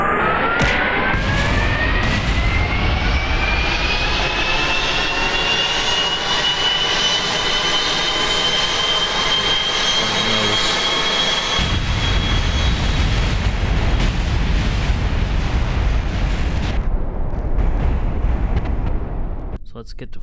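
A propeller aircraft engine in the Kerbal Space Program video game roars at full throttle, a loud, steady drone that holds for about twenty seconds and shifts in pitch midway before tailing off slightly at the end.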